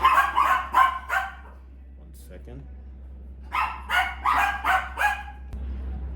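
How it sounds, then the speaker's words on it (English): Dogs bark close by in two bursts of rapid, repeated yaps separated by a quiet gap, while a person briefly speaks. "my dogs."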